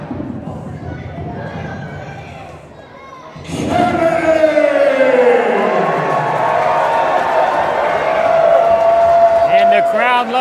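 A wrestling crowd at a Big Time Wrestling event swells into loud, sustained cheering and shouting after a quieter opening, continuing to the end with voices on the microphone over it.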